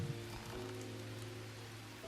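Rain falls steadily in the jungle of the survival game Green Hell, a soft, even hiss of drops on surfaces with a low background hum, faint and continuous with no talk.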